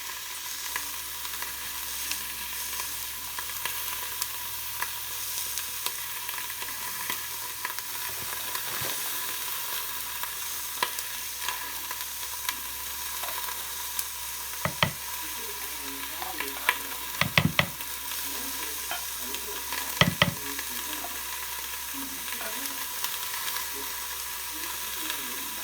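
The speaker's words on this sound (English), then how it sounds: "You can probably hear it sizzling." Pot roast meat browns in a hot pan with a steady, close sizzle and frying crackle throughout, broken by a few sharper clanks and scrapes as it is stirred and moved.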